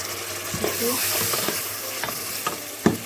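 Chopped onion frying in a pan for chicken ginger, with a dense close sizzle broken by repeated spoon scrapes and taps at an uneven pace.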